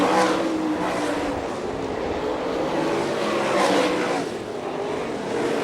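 Sprint cars of the All Star Circuit of Champions race through turns 3 and 4 at Fremont Speedway in Ohio, weaving through lapped traffic. Loud engines howl and surge as several cars pass close by, with the roar rising and falling continuously.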